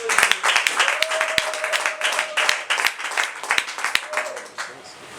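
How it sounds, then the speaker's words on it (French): Audience applause at a women's conference honouring a national party president, steady clapping with voices mixed in and some louder individual claps. "nous disons grand merci au président national Magloire Kashiba en l'applaudissant"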